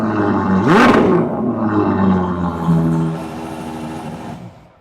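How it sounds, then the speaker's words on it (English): A Ferrari 812 GTS with a naturally aspirated V12 starts up with a sharp whirring crank and a loud bark, then settles into a smooth, steady idle that fades at the end. "we're gonna fire this baby up. I want you to hear a naturally aspirated V12."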